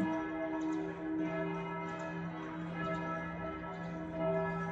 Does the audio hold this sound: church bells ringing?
yes